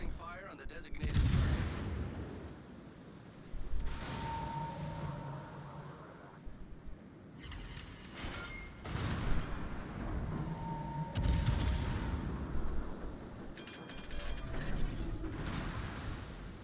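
Artillery shells land on a target in a video game, sounding as several bursts of booming impacts and mechanical clatter spread over the clip, with a voice talking between them.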